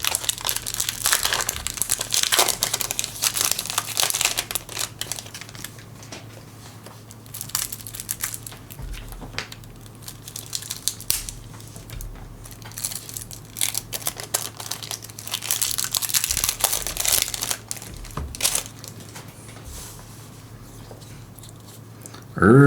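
Magic: The Gathering Jumpstart 2022 booster pack being opened, its foil wrapper crinkling and tearing continuously and close up for over twenty seconds.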